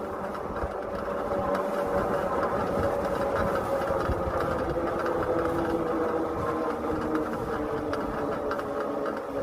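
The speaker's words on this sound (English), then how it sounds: "Listen to the motor." Electric hub motor of an Aipas M2 Pro Xterain e-bike straining up a hill in a low gear, a steady mid-pitched whine and hum with road rumble, continuous and fairly loud throughout.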